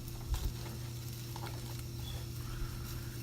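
Soft, steady sizzling of melted Crisco shortening heating in a pot for frying chicken, with faint crackles, a low hum underneath and a couple of light knocks near the start.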